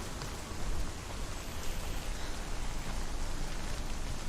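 Steady, dense rain in Hellblade: Senua's Sacrifice, a constant broadband hiss of downpour that fills the scene, loud and unbroken, with no voices over it.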